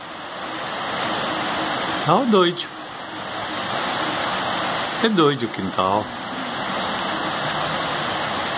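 Heavy rain falling outside, a steady loud broadband roar that fills the whole clip, with someone talking briefly over it twice.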